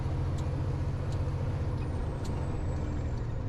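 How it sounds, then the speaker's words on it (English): An old truck's engine labours under load while driving, giving a continuous, loud low droning hum that holds steady for the whole stretch, with faint higher whine above and no voices. "This old truck ain't happy."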